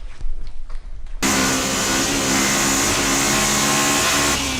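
A Honda S2000 engine idles loudly inside a closed garage, a steady, droning hum that starts abruptly after a brief quieter moment and holds constant to the end.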